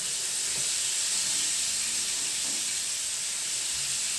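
Fish fries in a pan with a steady, dense sizzling hiss that stays loud and unbroken throughout, with no voices over it.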